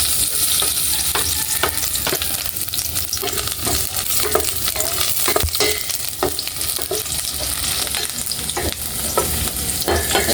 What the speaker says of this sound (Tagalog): mag-start na po tayo magluto yung sibuyas po